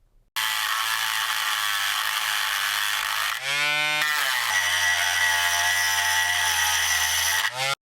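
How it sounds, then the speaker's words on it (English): A Dremel rotary tool grinds into the metal of a 1970s Tonka tow truck, a loud continuous high whine that shifts pitch midway as the bit bites and then settles into a steady drone before cutting off. "The drill bit didn't do much of anything, so we resort to using the Dremel"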